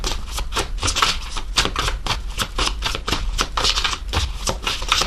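Oracle cards being shuffled by hand, a rapid run of crisp, papery riffling clicks in quick bursts, close and fairly loud, with no talking.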